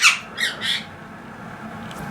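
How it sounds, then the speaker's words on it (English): Pet parakeets let out a sharp, bright squawk followed by two shorter calls, close and clear in a quiet indoor room where finches are also kept. "finches are singing, parakeets are"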